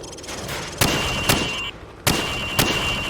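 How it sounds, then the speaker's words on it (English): Hip-fired gunshots at range targets in the video game Call of Duty 4: Modern Warfare, four loud, close reports in two spaced pairs, each with a short ringing tail. "Now, shoot at the targets while firing from the hip."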